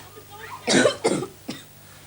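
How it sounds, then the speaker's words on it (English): Three harsh coughs close by, two heavy ones followed by a lighter third, with quiet room noise underneath. "that is a cough you've got there."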